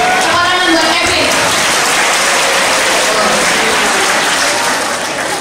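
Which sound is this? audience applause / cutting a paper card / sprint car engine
audience applause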